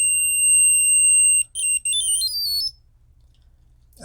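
A Q*bert start-up jingle plays from a Super Impulse micro arcade handheld. It gives sustained electronic tones, then a quick warbling run of bleeps that rises and stops, leaving faint hiss.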